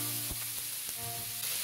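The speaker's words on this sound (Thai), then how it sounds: "ผัดต่อเลยครับให้ทุกอย่างเข้ากันให้หมดแล้วก็ให้หมู3ชั้นของเราเริ่มสุกๆตึงๆขึ้นมานะครับ" Pork belly stir-frying in a wok with cinnamon, star anise and five-spice, a steady loud sizzle under a few sharp scrape-and-toss knocks of the spatula, with no talking.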